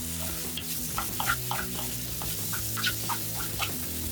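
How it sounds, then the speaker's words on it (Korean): Soaked rice and chopped onion sauté in extra virgin olive oil in a pan, a soft steady sizzle with scattered light scraping and stirring clicks throughout, fairly quiet and close. "다져둔 양파를 투입. 쌀이 반투명해질 때까지 볶아줍니다."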